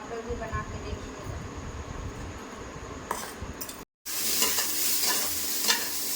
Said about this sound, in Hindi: देखिए अमड़ा भूंज रहे हैं।